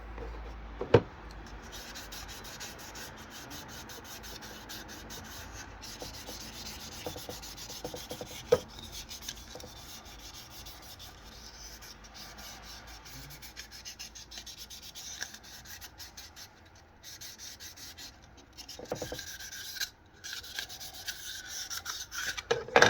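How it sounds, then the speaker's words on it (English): Sandpaper rubs back and forth over the buttons of a Logitech G Pro Wireless mouse, producing a steady, gritty scratching that runs close and fairly quiet, with occasional small knocks and clicks between strokes. "One more thing needs to get sanded, and that is the buttons."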